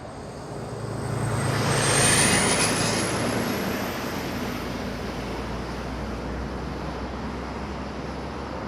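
An Air Canada A320 jet in black livery approaches Toronto Pearson airport, its engine roar swelling to a peak at a moderate distance and then easing into a steady, fainter rumble.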